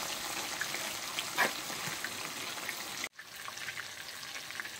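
Quail fry in hot oil, thattukada style, a steady, close hissing sizzle with bubbling that cuts out abruptly near the end before resuming more quietly.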